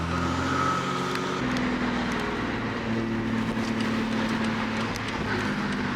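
Single-turbo BMW M3 xDrive (G80) on the move, a steady in-cabin drone of engine and road noise with shifting tonal pitch as the car runs along, no voices.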